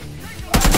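A sudden loud burst of rapid gunfire in the video game PUBG erupts after a quieter moment of muffled noise.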